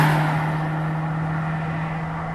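A 2024 Toyota Prius XLE AWD hybrid drives along, its steady broadband road and engine noise holding constant and loud throughout with a low, even hum underneath and no speech.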